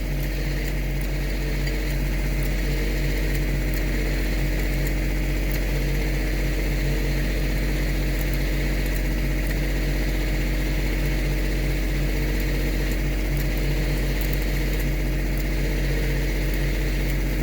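Kubota tractor engine running steadily while a 9000 lb winch pulls a stubborn stump, a loud continuous low drone and hum with no pauses or talk.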